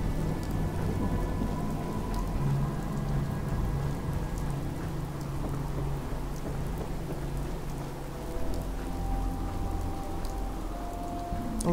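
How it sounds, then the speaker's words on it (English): Stormy weather in the game Fallout 4 Far Harbor: steady heavy rain pours throughout, with deep rumbling thunder rolling underneath and no talking. "It's a little stormy out here."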